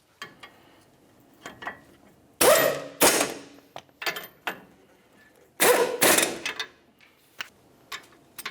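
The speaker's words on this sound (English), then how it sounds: "Now we can tighten each of these and then torque them to" A wrench tightens brake caliper bracket bolts on a 2009-2019 Ford Flex, close-up metallic clanks and ratcheting clicks in short irregular bursts, with a couple of loud knocks and quiet gaps between them.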